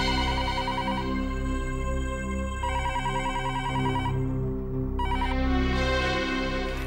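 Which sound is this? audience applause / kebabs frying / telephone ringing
telephone ringing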